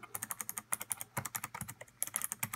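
Fast, steady keystrokes on a Razer Ornata Chroma keyboard, each key bottoming out with crisp clicky taps in a dense rhythm, close and alone.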